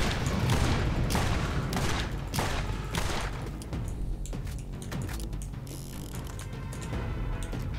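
Gunfire in the Borderlands video game: rapid, loud bursts of shots crack in quick succession, densest at the start and thinning out toward the end, with mechanical clatter mixed in and no talking.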